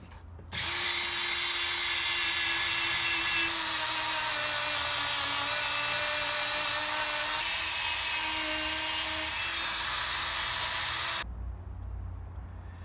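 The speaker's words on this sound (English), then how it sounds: "That little brass wire brush and the gum cutter, that really removed the carbon buildup really well" A Dremel spinning a small brass wire brush scrubs carbon buildup off a Yamaha Virago cylinder head near the valve seats. A steady, high motor whine runs for about ten seconds with a slight pitch dip midway, then cuts off abruptly.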